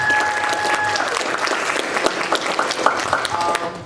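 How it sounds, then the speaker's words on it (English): Convention crowd applauding at a Power Rangers Wild Force fan panel, loud continuous clapping from a packed room with faint tones and scattered voices underneath. "Just a round of applause for that."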